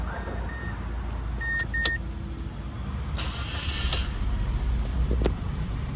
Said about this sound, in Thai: เดี๋ยวสตาร์ทเครื่องนะครับ